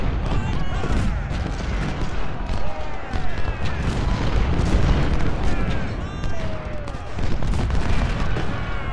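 American Civil War cannon and musket volleys in the Ultimate General: Civil War battle game, a dense continuous crackle of gunfire and booms with whistling shots throughout, loud and unbroken.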